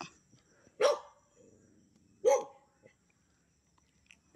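Two sharp dog barks about a second and a half apart on a farm lot, moderately close, with quiet rustling between them.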